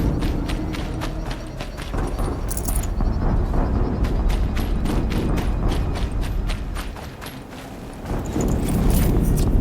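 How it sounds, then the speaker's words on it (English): Explosions from the Horizon Zero Dawn video game, dense broadband blasts and crackling debris with impacts in quick succession, loud throughout and swelling again near the end. "Explosion."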